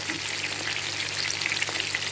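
Fish frying in a pan, a dense continuous sizzle and crackle with scattered pops, close and loud, with no voices.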